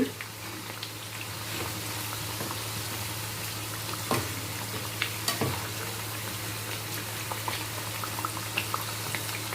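Puffed rice masala vadas frying in hot oil over a medium flame, a steady close bubbling sizzle with scattered sharp pops and crackles throughout, no voices.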